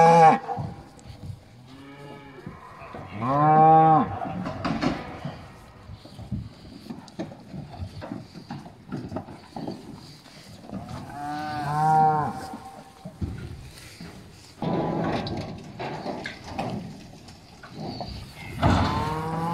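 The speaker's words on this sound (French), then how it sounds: "Là, donc là il y a 4 vaches à l'arrière, elles doivent rentrer là-dedans." Several cows in a pasture moo in long, loud calls, with two prominent bellows and shorter lows, over steady outdoor background noise and no talk.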